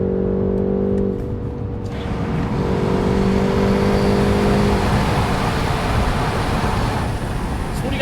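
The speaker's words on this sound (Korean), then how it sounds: "이렇게 이제 엔진 사운드도 좀 나와주니까요" A BMW 530i xDrive M Sport with a four-cylinder engine in sport mode drones steadily while driving, a dense continuous engine and road roar with a brief tonal hum early on.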